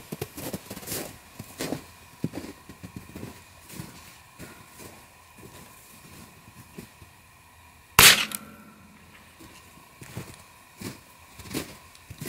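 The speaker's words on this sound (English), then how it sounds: "Fire the weapon remotely." A firearm is fired remotely to shoot out a bullet stuck in its barrel: one sharp, loud shot that rings briefly over quiet background clatter.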